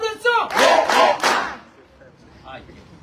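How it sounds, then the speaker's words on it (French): A church congregation welcoming a visiting preacher breaks into loud collective shouts and cheers in several bursts over the first second and a half, then fades to scattered distant voices. "Applaudissons!"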